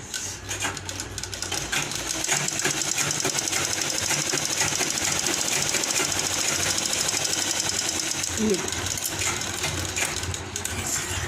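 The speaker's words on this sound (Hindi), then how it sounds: "इन दोनों मार्कों को मिलाते हुए मैं इस पर सिलाई चला दूँ" A sewing machine stitching a lined blouse runs continuously at close range, a fast steady mechanical whirr and rattle throughout with no talking.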